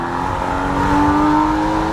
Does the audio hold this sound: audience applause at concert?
no